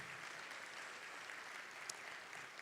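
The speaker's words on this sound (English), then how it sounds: "Can we give them a round of applause, please?" Applause from the audience at a Tempe community education awards ceremony, a steady, fairly faint wash of clapping that holds evenly through the whole short stretch, with no voices over it.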